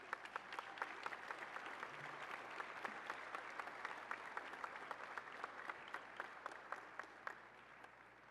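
A faint, steady roll of audience clapping with distinct individual claps, greeting the Business of the Year award presentation at a chamber of commerce awards event.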